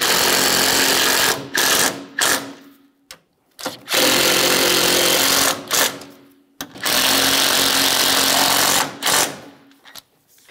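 Pneumatic or electric power tool bottoming out the strut mount nuts on a 2006-2012 Ford Fusion front strut, loud close whirring bursts in several runs of one to three seconds separated by short pauses.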